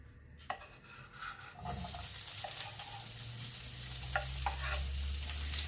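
Bell peppers sizzle steadily in rendered pan fat over high heat, a continuous loud frying hiss that starts abruptly after a moment of quieter clatter, with occasional stirring knocks.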